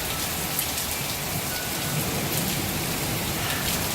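Steady storm rain drums on the roof of an RV, a dense unbroken patter heard close up with no voices.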